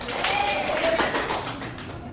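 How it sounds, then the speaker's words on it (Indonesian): A classroom audience applauds during an Indonesian school group presentation, a steady wash of many hands clapping at moderate volume that carries on for the full couple of seconds. "Boleh, tepuk tangan."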